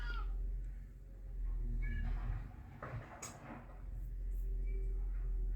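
A cat named Mr. Wizzy meows indoors, unhappy at being kept inside, with a few short, moderately loud calls over a steady low background hum.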